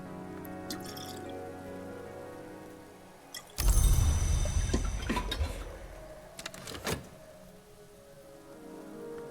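Tea pours in the Book of Hours game: a bright, splashing liquid stream swells suddenly and runs for a couple of seconds before thinning into a few drips, set against soft ambient tones with no talk.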